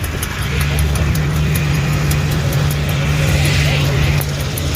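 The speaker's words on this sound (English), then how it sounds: "It's right up in the running for the loudest sled competition too. Not much muffling going on there." A loud vintage snowmobile engine with little muffling runs steadily at close range, a constant rough drone with a rapid ticking rattle, and no voices over it.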